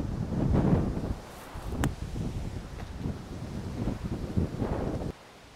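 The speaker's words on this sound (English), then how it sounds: "Now what you've just witnessed there is, well, just how windy it is." Strong gusting wind buffets the microphone on a links-style golf course, roaring in uneven surges before dropping off abruptly near the end, with no talking.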